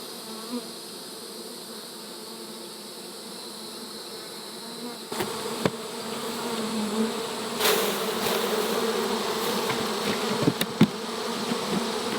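Honey bees hum steadily around an open hive, a soft, continuous buzz that grows slightly fuller partway through, with faint clicks and rustles near the frames.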